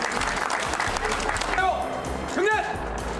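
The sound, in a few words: audience applause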